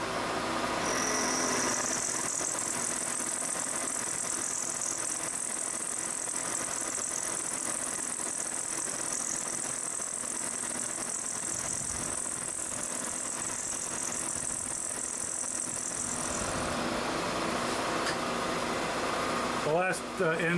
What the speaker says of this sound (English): This one is a finishing end mill. It's like a six flute.